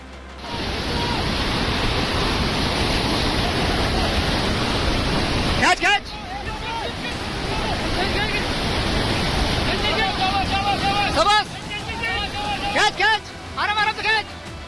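Roaring flood water of the swollen Beas River rushing past a bridge in Rampur, Kullu district, Himachal Pradesh, a loud continuous broadband surge with a brief break midway and sharp clatter and bursts later on.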